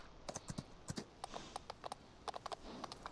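A trotting horse's shod hooves clip-clop on asphalt in a quick, even two-beat rhythm of sharp, distinct strikes, fairly faint and heard alone.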